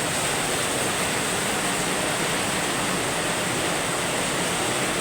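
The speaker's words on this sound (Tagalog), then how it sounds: "Sobrang lakas ng buhos ng ulan." A steady, loud morning downpour in Dasmariñas, Cavite roars without pause, a thick wash of rain noise filling the whole stretch, no one speaking.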